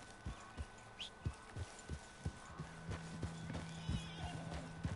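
In Red Dead Redemption 2, a horse's hooves clip-clop in a steady, even rhythm at a walk, with a short neigh early on, faint against a quiet game background.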